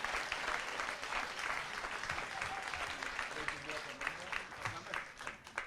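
Sustained, moderately loud applause from an audience at a municipal council investiture in Basse-Terre, honoring the senior member of the list, with voices murmuring underneath throughout.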